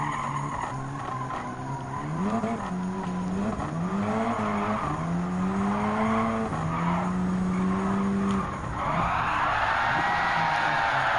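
A rally race car drifting on dirt at Barcelona Rallycross in Gran Turismo 7, with the engine rising and falling through gear changes, then tyres hissing and skidding loudly toward the end, with no talk over it.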